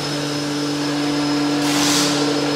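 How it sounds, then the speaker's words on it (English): A vacuum pump on a TYA series hydraulic lube oil purifier runs as a steady mechanical hum with constant tonal whine. It grows slightly louder and hissier as it comes up to speed partway through, heard alone and close. "First step is to start the vacuum pump."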